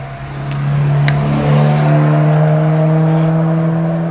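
A car passes a group riding motorcycles on a weekend road trip through the Sunshine Coast and Vancouver Island, its steady engine drone swelling and holding loud and near under the riders' own engine noise.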